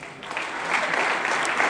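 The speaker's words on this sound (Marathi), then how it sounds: "ते तुम्ही तुमच्यासाठी टाळ्या वाजवा" Steady applause from an audience at a Marathi public gathering, a dense, even wash of many hands clapping that swells slightly and keeps going throughout.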